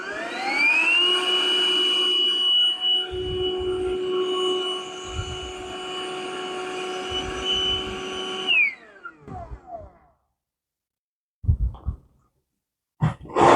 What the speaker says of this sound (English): Power it on, change to blow up